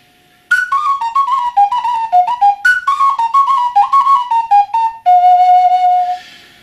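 A handmade ceramic flute plays a lively melody of quick, clear whistling notes up close, ending on one long sustained tone that fades away.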